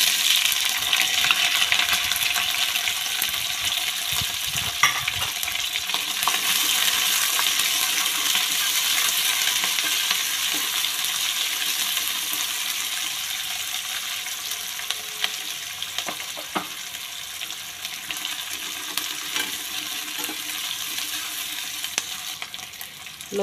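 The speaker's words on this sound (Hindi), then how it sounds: "हुण आपां नाल पावांगे जी कट्टे हुए प्याज" Chopped onions frying in hot oil with bay leaf, small cardamom, cloves and black pepper for veg pulao: a dense, continuous sizzle with occasional metallic clinks of stirring.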